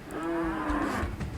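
A single low, drawn-out cow moo from the Unreal Tournament 99 video game, fairly close and clear, lasting about a second with no talk over it.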